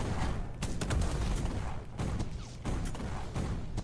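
Repeated heavy booms and bursts of tank cannon fire in the mobile game Tank Arena Steel Battle, dense and loud throughout with no talk over them.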